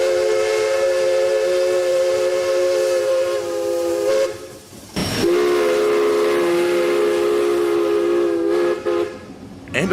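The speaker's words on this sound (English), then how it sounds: "to an MD Whistles replica of a Southern top lever 3-chime" A Southern top lever three-chime replica steam whistle by MD Whistles sounds on QJ steam locomotive RJ Corman #2008: two long, loud chime blasts separated by a brief break, with steam hiss underneath.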